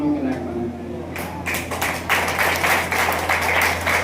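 An audience claps at a madrasa Teachers' Day ceremony, the applause starting after a second and swelling into steady, dense clapping that fills the room as a voice carries on over it.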